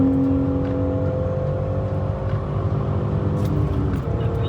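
A manual-swapped BMW E39 sedan drives along with a steady, droning engine hum and whirring road noise, its pitch shifting slightly as the engine revs, heard from inside the car and fairly even in loudness.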